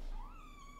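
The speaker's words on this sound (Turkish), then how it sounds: "Minik kedi. Minik bir tanecik." A tiny kitten gives a single thin rising mew indoors, faint and brief, with a quiet low rumble underneath.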